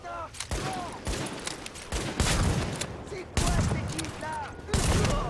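Explosive-round gunfire in The Division video game cracks in rapid bursts of sharp shots and blasts, repeated in several volleys, with game voices and player chatter in between.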